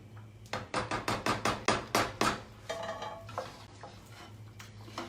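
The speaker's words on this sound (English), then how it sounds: "So I'm stirring them up." Grits are stirred in a pot with a utensil, giving a quick series of rhythmic scraping clacks against the pot, followed by softer irregular stirring noises close by.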